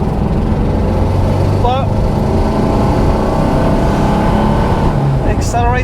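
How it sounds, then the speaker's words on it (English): A 1966 Porsche 912 engine drones loudly and steadily with a rattling, tappety texture as it accelerates, with someone talking over the noise throughout. "it's a lot of rattling, tappety engine noise"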